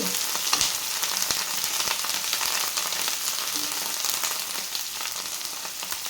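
Freshly ground masala frying with reddish-browned onions for a broad bean curry, a constant close sizzle dotted with small pops and spatula taps, steady and unbroken, with no one speaking.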